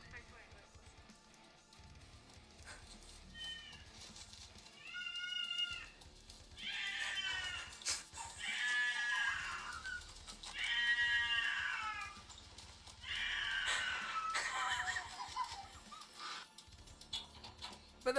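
A cat locked out of a room screams and yowls in a series of drawn-out, wavering cries, loud and insistent, with short pauses between the calls.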